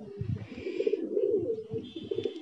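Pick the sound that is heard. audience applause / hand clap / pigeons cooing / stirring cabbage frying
pigeons cooing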